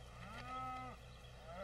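A carabao (water buffalo) gives a single drawn-out, low, harmonic moo that swells and fades, loud and fairly close, with no talking.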